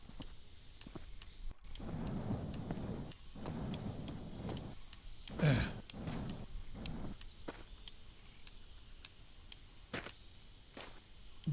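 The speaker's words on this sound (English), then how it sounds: "Are we away from that storm? I can hear it still." Distant thunder rumbles low and steady in The Long Drive during a storm, a continuous broad roar with a few sharper cracks and faint clicks over it, no talking.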